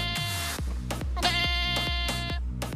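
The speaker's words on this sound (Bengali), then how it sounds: "এই যে ছাগলের রিংটোনটা আমি কেন দিছি" A phone ringtone of a goat bleating, loud and close, repeating in several drawn-out bleats across a few seconds with no voices over it.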